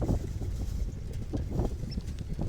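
Wind buffets a microphone outdoors beside a car with a cracked front windshield, a steady low rumble with gusty swells and no speech.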